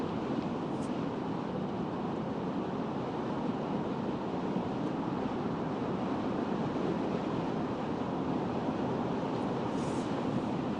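Strong wind before an approaching storm on a road trip from Florida to Virginia, roaring as a steady, loud broadband rush with buffeting across the microphone throughout, no voices heard.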